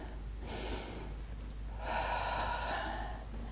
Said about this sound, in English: And just take a deep breath in and out.